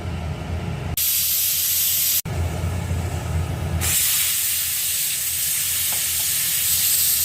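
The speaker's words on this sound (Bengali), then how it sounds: "এখানে আমি ভেপারটা বের করে দিলাম" Steam hisses loudly and continuously from a pressure cooker being vented after cooking eggs and potatoes, a harsh, close rush broken by two brief cuts and shifting in tone partway through.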